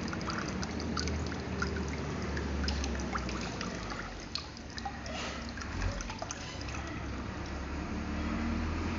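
Water from a freshly opened coconut pouring out in a continuous trickling, dribbling stream outdoors, steady and moderately faint for about nine seconds with small splashes and no speech.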